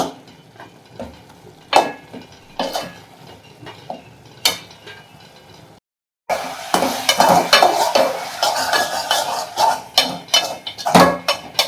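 Steady sizzling and frying of small onions in a pan with scraping stirs and occasional utensil clinks; a brief silent gap midway, then louder, denser sizzling.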